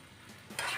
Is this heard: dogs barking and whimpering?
no